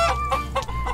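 A chicken in an indie video game clucks in quick, rhythmic bursts, about four short calls in a second. The calls are loud and close, with no talk over them.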